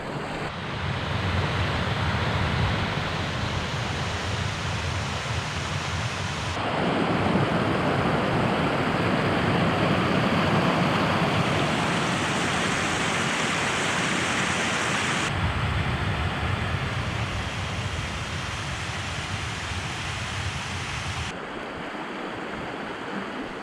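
A brook with small waterfalls in a Yorkshire Dales valley in winter gives a continuous broadband rush of flowing water, loud and steady, with the character shifting between segments as if from different spots, alone without voices.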